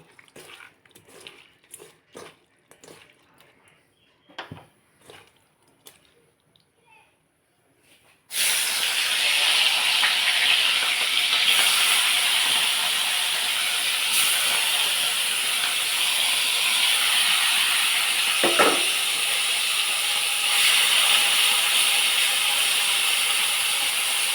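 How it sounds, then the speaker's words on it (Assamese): Shrimp dropped into hot mustard oil for a jackfruit and shrimp dish bursts into a loud, steady frying hiss that runs unbroken after a few seconds of quiet kitchen clinks and handling. "এইখিনি মিঠাতেলতে এতিয়া মই ধুনীয়াকৈ মিছা মাছখিনি ভাজিম।"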